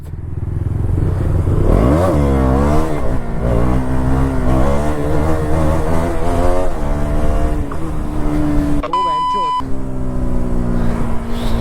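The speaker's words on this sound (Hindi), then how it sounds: "भाई भाई कितना लंबा विली लग रहा है यार" A KTM Duke 200 motorcycle revs hard while riding a wheelie, its loud engine climbing and falling in pitch through repeated throttle surges, with a short electronic beep partway through.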